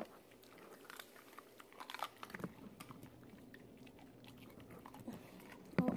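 Huskies crunch and chew raw food at close range, with irregular crisp bites and clatter throughout, ending in a louder knock.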